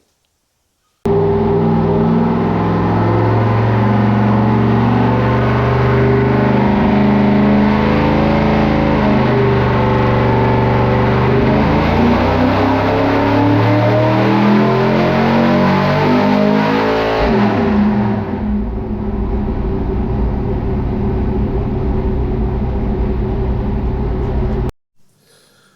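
An engine fitted with test headers with 2-inch secondaries is revved hard through sustained pulls, a loud, slightly distorted roar that climbs and dips in pitch for about seventeen seconds, then settles lower before cutting off abruptly.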